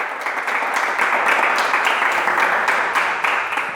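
An audience claps in a dense, steady round of applause that holds at a fairly loud level throughout, with no voice above it.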